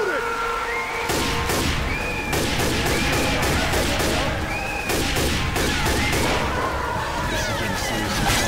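Left 4 Dead 2 gunfire crackles as rapid, dense bursts of shots through most of the clip. A steady wash of rain-like noise sits underneath.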